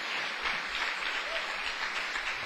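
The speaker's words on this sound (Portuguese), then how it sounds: "Outra salva de palmas para o Senhor Jesus." A church congregation claps together for Jesus, a steady, full wash of applause filling the sanctuary, unbroken and without voices.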